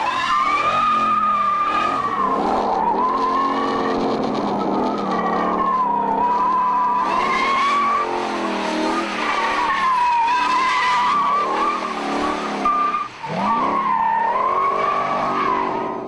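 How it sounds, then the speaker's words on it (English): A car does a burnout on a drag strip, laying rubber with a loud, sustained tire squeal and screeching skid over a roaring engine that rises and dips, with a brief drop near the end. "so we had to lay some rubber down on our side"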